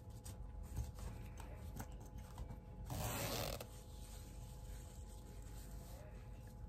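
A zipper slider is drawn carefully along a length of zipper tape during sewing, a faint close creak and rasp that swells for a moment in the middle of quiet background noise.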